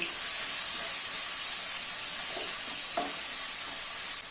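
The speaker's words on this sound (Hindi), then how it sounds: "अभी इसमें 2 फाइनली चॉप किए हुए ऑनियन ऐड कर लेना है और मिक्स कर लेना है।" Two finely chopped onions sizzle steadily in hot oil over a medium flame, a constant close frying hiss with soft scraping stirs of a spoon now and then.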